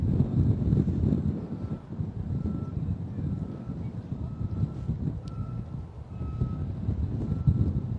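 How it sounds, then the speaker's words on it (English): Faint repeating electronic beeps, evenly spaced, sit under loud rumbling wind and engine noise outdoors at London City Airport. "that person's having such a loud beep."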